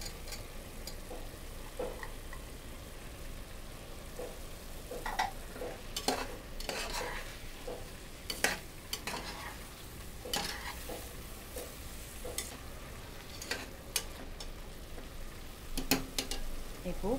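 Mushrooms stirred and frying in a pan for mushroom pulao after curd is added, with a steady soft sizzle and repeated sharp scraping clicks of the spoon throughout.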